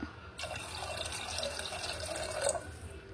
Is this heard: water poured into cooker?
yes